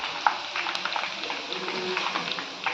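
Moong dal frying in hot oil, a steady, close, bubbling crackle with dense fine pops throughout and no voices.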